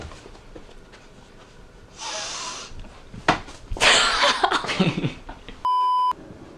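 A few loud, close sniffs and snorts through the nose, followed by a short electronic beep.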